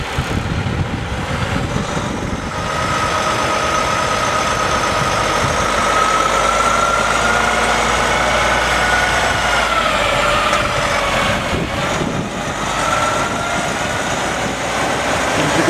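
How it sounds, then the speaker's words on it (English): Kenworth T800 truck powered by a Cummins ISX 15 diesel rated at 565 horsepower, 2010 emissions model, running with a steady loud engine drone and idle rumble throughout, no talking. "It's powered by an ISX 15, rated at 565 horsepower."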